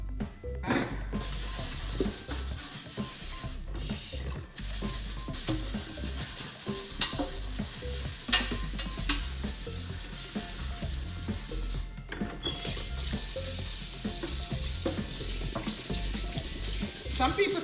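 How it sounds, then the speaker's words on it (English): A kitchen sink is scrubbed by hand, with repeated rubbing and scraping strokes in an irregular rhythm, close and moderately loud, broken by short pauses and occasional clanks. "So I always scrub my sink first before I do my dishes."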